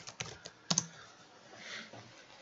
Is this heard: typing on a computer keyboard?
yes